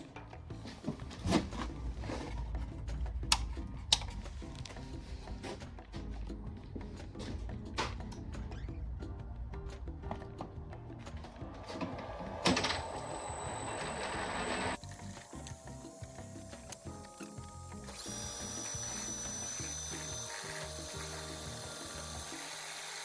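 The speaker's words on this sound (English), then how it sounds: "So let's machine this piece of EN19T" Machining a piece of EN19T steel on a home-built CNC mill, heard as a busy run of ratcheting, clicking mechanical noise with sharp ticks, followed by steadier whirring motor and spindle tones that shift in pitch, fairly quiet overall.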